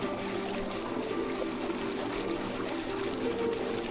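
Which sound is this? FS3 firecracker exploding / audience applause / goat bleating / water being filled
water being filled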